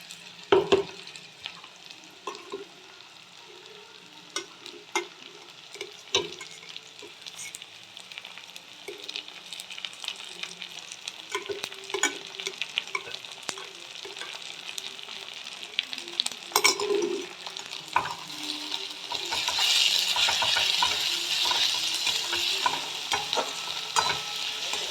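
Minced meat with garlic and chopped green chilli frying in a pan, with gentle sizzling throughout, scattered spatula scrapes and clicks, and the sizzle growing louder and denser toward the end.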